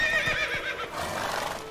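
In Witcher 3, a horse whinnies with a high, wavering neigh near the start, then hooves clip-clop in a few quick thuds as the call fades, all fairly close and moderately loud.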